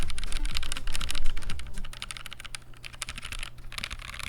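Typing on a GMMK Pro custom mechanical keyboard with OP Black switches: a steady, close run of fast, clacky keystrokes with nothing else heard.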